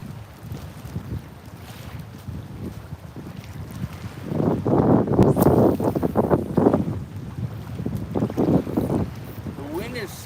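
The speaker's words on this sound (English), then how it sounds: "The wind has started to calm down slightly, in my opinion." Wind gusting across a river at night during a fishing trip, a steady broadband rush that swells louder in the middle and tapers, with a voice talking faintly underneath.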